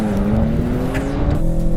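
A BMW M3 and a 680 horsepower AMG C63 launch off the line in a standing quarter-mile drag race, engines roaring loud and continuous with a rising pitch as they accelerate.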